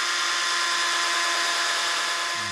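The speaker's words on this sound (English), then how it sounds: "I'm just gonna sand all that off using the drill." A drill whines continuously and loudly with a harsh, gritty abrasive hiss, sanding a metal plate from a 1965 Coleman camp stove up close.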